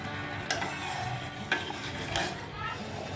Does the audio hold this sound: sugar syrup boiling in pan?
yes